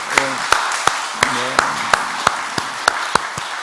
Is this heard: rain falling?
no